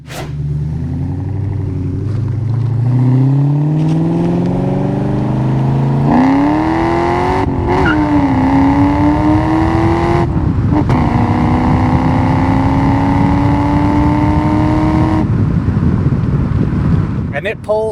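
A supercharged 1999 Ford Saleen S-281 with a 4.6 engine drives and pulls through the gears, its engine rising in pitch with brief breaks at each shift, under steady wind rush.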